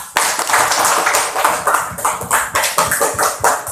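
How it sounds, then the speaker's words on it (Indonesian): A classroom of students applauds together, a dense burst of hand claps with rhythmic swells that carries on loudly, close up, for several seconds. "Oke, sekali lagi tepuk tangan dulu buat kita semua."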